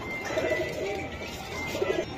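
Budapest pigeons sitting on eggs coo in low, rolling bursts, close and steady, with a second cluster of coos near the end over a faint background hum.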